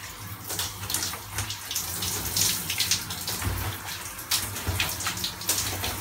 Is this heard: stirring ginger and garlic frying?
no